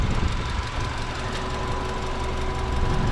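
A 2000 Subaru Impreza engine idling smoothly, heard up close as a steady, even low rumble with a faint constant hum above it, holding the same level throughout with no voices.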